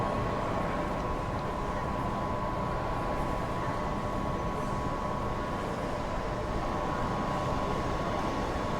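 A train approaching a station in Train Sim World 2's Dresden route gives off a steady, even rumble with a faint sustained tone, holding a constant level throughout with no talk.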